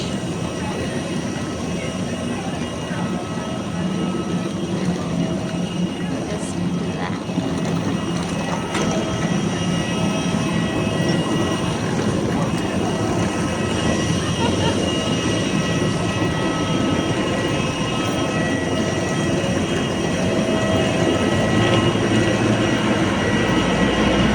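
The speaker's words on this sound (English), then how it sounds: "ఒక ఫ్లైట్ వచ్చింది" Airliner arriving at Langkawi Airport, a steady broadband roar of jet noise held at an even level throughout, with people talking quietly underneath.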